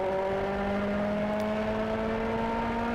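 Race car accelerating on the M1 Concourse track, a steady rising engine whine with clear harmonic tones, loud and close.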